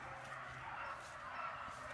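A running pack of eleven young hunting dogs, two years and under, gives faint, distant yips and bays over a steady outdoor background, a loose scattered chorus rather than single sharp barks.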